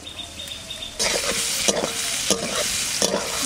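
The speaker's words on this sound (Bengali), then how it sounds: "আলুটা কষানো প্রায় হয়ে গেছে, এবার এই কপিটা দিয়ে দেবো।" Cabbage and local potatoes, fried first with salt and turmeric, stir-frying in a pan: a steady sizzle with loud spatula scrapes and stirring bursts recurring about every second, close up and with no talk.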